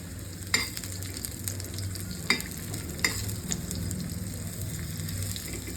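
Cinnamon sticks and cloves frying in a pan, a steady soft sizzle with a few sharp clinks of stirring scattered through, close by and without talk.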